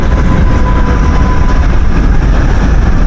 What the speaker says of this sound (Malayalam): നല്ല രസമുള്ള ട്രാം